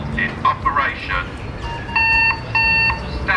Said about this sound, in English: you're going to hear the external alarm kick in